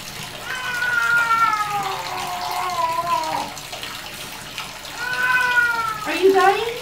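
A wet black-and-white cat meows during a bath as water pours off its fur, giving several drawn-out, rising meows close by over running water, with a person talking in between.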